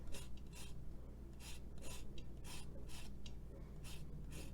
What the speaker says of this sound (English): And then I'm going to add the zest of 1 lime.